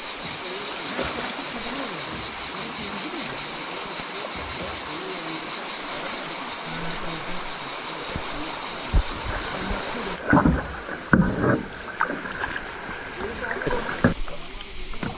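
Canoe drifting on a flowing creek bed in front of Arden campsite in the Kazdağları mountains, with steady broadband water rush throughout and a few knocks and splashes near the end.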